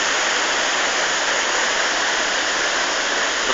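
Pistyll Rhaeadr waterfall gives off a loud, unbroken roar of falling water, close and constant, with no other sounds over it.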